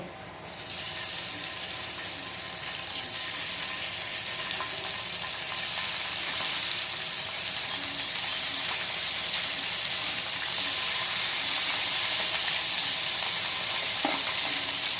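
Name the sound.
second batch of bele fish frying in oil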